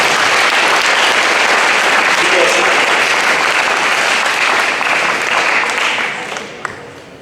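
Strong, continuous applause from a football banquet audience for the junior players, many hands clapping evenly before tapering off in the final seconds with a few stray claps.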